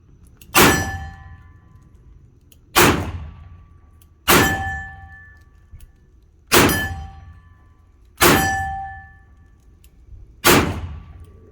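Smith & Wesson Highway Patrolman .357 Magnum revolver firing six sharp, loud shots, each followed by a ringing clang, spaced about two seconds apart with no talking.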